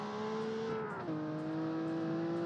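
A steady old Nissan car engine in a video game drones at idle, its pitch dipping once midway before settling into an even hum.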